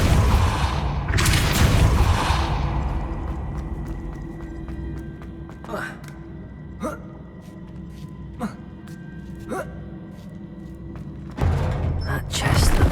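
Depulso and Accio spells cast in Hogwarts Legacy: a loud whooshing burst at the start, then a run of sharp, separate magical impacts and clicks, and a final surging blast near the end.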